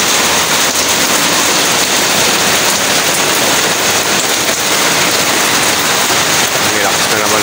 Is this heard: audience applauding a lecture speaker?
no